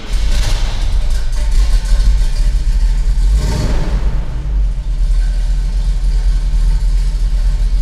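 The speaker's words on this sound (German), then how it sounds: "So springt das Auto an" A 1978 Chevrolet C10 pickup with a 454 cubic-inch V8 rumbles steadily close by, a deep, loud engine note that swells briefly around the midpoint before settling back into an even idle.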